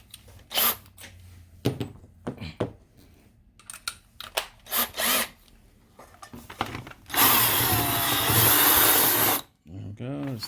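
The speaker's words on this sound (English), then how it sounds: "we'll use the little deburr tool. I'm going to use it on the drill" A small deburring bit spun by an electric drill, used while repairing a Mesa Boogie Fillmore 25 reverb box, whirs loudly and steadily for about two seconds after intermittent handling clatter and brief tool bursts, ending with a short spin-down.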